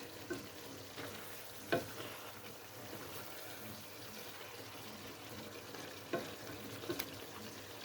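Leeks cooking in a pot for a leek dish give off a quiet, steady simmer with a few spoon scrapes and knocks against the pot, close but soft, and no one talks.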